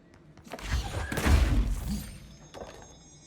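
Fragile object shattering in the video game Control: a heavy crunching break with a low thud and scattering debris, swelling and fading over a couple of seconds.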